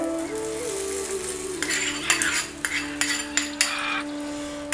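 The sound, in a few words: hot tempering (tadka) poured over coconut chutney, sizzling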